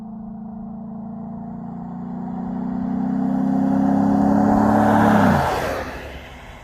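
A 2011 Ford F-series pickup accelerates hard, its engine droning in a steady low rising note for about five seconds before cutting off abruptly into a brief rush of wind and road noise, close and loud.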